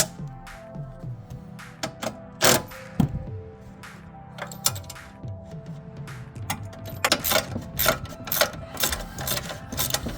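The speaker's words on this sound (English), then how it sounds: "These ratcheting wrenches really come in handy" A ratcheting wrench tightens the mounting bolts of a Novawinch Stinger 12k winch on a Jeep LJ, giving bursts of rapid close clicks and metallic knocks with short pauses between strokes.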